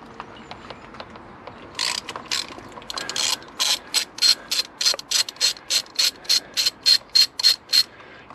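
A ratchet undoing 13mm bolts on the fuel rail of a Mini One/Cooper R50/R52 1.4 or 1.6 litre engine, heard as close, steady, rapid clicking strokes repeating rhythmically.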